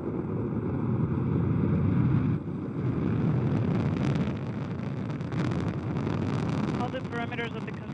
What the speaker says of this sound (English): Engines at maximum thrust and liftoff of the Soyuz TMA-20 as Katie Coleman, Paolo Nespoli, and Dmitry